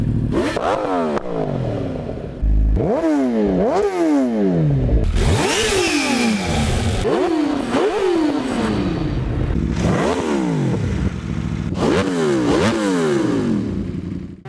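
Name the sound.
motorcycle engine revving in RiMS Racing video game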